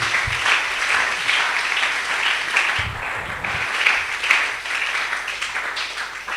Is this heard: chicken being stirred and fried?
no